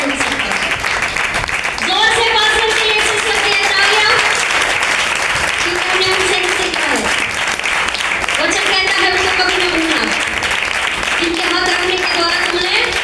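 A church congregation at a Sunday service claps loudly and steadily, a dense wash of applause that carries through the whole stretch while voices talk and call out over it.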